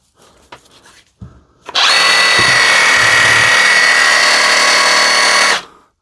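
A repaired Dewalt DCS367 cordless reciprocating saw, freshly reassembled and greased, makes a few short clicks and bumps, then revs up and runs at a steady loud whine for about four seconds before winding down.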